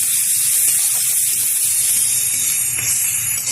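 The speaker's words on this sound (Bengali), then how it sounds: "চিংড়িটা একটু ভালোভাবে ভেজে নেব।" Small washed shrimp fry in hot oil in a wok, giving a loud, continuous close-up hiss with a steady steamy texture and no talking.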